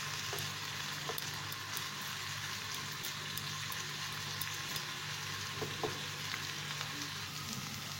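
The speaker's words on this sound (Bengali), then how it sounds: "পেঁয়াজটাকে একটু নরম হতে দেব, সে অবধি এটাকে ভাজবো।" Chopped onion fries in oil over a medium flame, a steady, even sizzle running unbroken throughout with a few faint utensil clinks on top and no voices.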